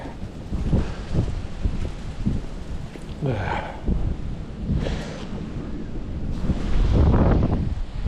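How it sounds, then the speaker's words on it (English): Gusty wind buffets the microphone with a steady low rumble that swells louder toward the end, with a few faint voices in the mix. "Nice and windy."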